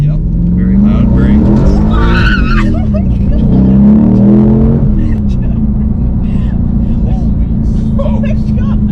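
A loud 500-horsepower LS V8 in a swapped Porsche 911 rumbles up close throughout, rising in revs midway, while people talk over it inside the car.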